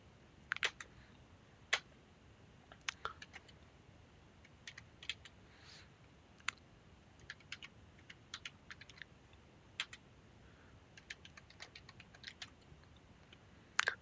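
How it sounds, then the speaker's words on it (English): Sharp, quiet keystrokes on a computer keyboard as a password is entered to log into a banking application, irregular clusters of taps with brief pauses between, close and otherwise silent. "If I'm typing here"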